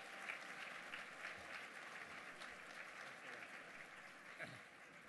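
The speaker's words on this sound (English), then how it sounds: "Please, a big round of applause." Audience of about 650 applauding at an annual gala dinner, sustained even clapping from a large room heard alone for several seconds at moderate distance.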